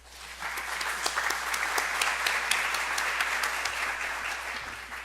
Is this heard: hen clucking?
no